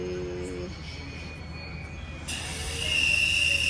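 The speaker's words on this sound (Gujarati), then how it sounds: "તો ટ્રેન આવી રીતે કંઈક આવી રહી છે." A train pulls into Savarkundla railway station, with a steady rumble and squealing wheels that rise to a loud high hiss near the end.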